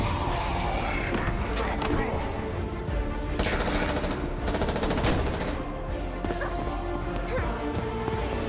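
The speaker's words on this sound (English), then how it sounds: "Me with the three-round burst." Rapid bursts of automatic gunfire from a video game trailer, loud and dense across the whole stretch, with overlapping shots and impacts in a busy, music-backed mix.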